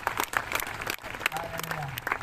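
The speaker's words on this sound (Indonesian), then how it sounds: "Mari kita berikan aplaus lagi" A church congregation applauds at a celebration of the Gospel's arrival in the Baliem Valley at Wamena, Papua, with dense, steady clapping throughout and a voice carrying over the crowd.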